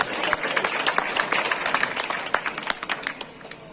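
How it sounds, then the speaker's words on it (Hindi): Audience clapping at a kavi sammelan poetry gathering in Dhamtari, a dense, even burst of applause from many hands held steady for a few seconds with no voices on top. "दोनों हाथ उठा के एक बार जोरदार ताली बजाती है"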